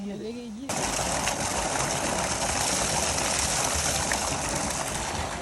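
After a brief voice, water runs steadily as freshly picked mangoes are washed, a loud, even rushing flow that continues unbroken to the end.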